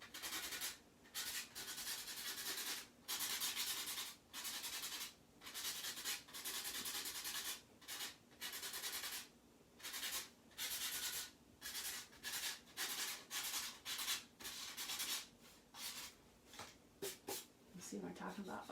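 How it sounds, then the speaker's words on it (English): A Chalk Couture chalk transfer with cookie-baking lettering is rubbed by hand to distress it: many short, close, scratchy strokes in a fairly steady rhythm, with brief pauses between them. "you could rub certain areas and kind of give it an aged look"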